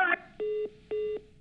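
Telephone line tone heard after a caller drops off a live news phone-in: two or three clean electronic beeps, each about a quarter second long, repeating in an even rhythm, loud and alone.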